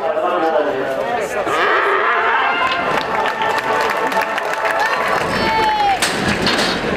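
A Camargue manade cow, Esmeralda, runs in a bullfighting arena amid a noisy crowd, with cheers, whistles and an announcer's voice carrying over the commotion.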